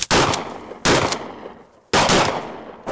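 Three loud, sharp shotgun blasts fired during an Arizona quail hunt, each cracking out close by and rolling off into a fading outdoor echo, spaced about a second apart with no voices.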